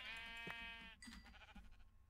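A Minecraft sheep bleats in one sustained, wavering cry, close and fairly faint, followed by quieter game ambience with no talk.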